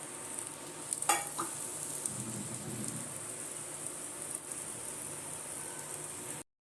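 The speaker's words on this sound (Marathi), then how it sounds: "आणि आता थोडंसं आपल्याला तेल सोडायचं आहे त्याच्यात आणि छान खरपूस फ्राय होऊ द्यायचं आहे" Beetroot cutlets frying in oil in a pan, a steady close sizzle throughout with a brief clink near the start, ending abruptly.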